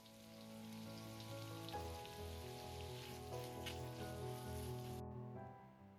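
Chicken breast fries in a pan with vegetables for a chicken noodles dish, giving a steady, dense hiss of sizzling oil that holds evenly close up before stopping abruptly near the end.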